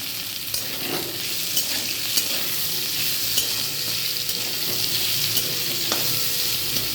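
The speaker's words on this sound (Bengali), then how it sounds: "পেঁয়াজটা একটু ভাজা ভাজা করে নেব" Onion frying in a pan for a ridge gourd and potato poppy-seed dish, a steady close sizzle with occasional stirring scrapes and no talk.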